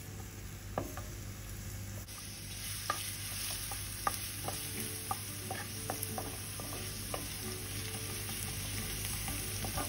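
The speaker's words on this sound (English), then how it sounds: "heat a pan and oil, add garlic and saute them until they are nicely, slightly in brown in color" Garlic sautéing in hot oil in a pan, a steady close sizzle and fry with a low hum beneath and occasional soft taps and stirs of a utensil, no talking.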